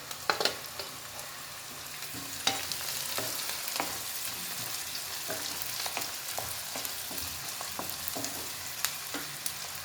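Onions frying in a pan until golden for a baby corn gravy, a steady crackling sizzle with occasional sharper pops and stirring scrapes, close and continuous, with no voices.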